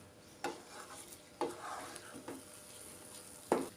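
Wheat semolina being stirred into simmering water for papaya kesari: three or four distinct scraping strokes against the pan, spaced about a second apart, over a quiet bubbling background.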